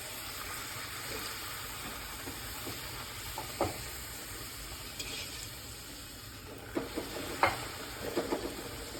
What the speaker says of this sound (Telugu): ఇది హీట్ అయినాక ఒక్కొక్కటి వేసి కాల్చడం అయితే స్టార్ట్ చేయాలి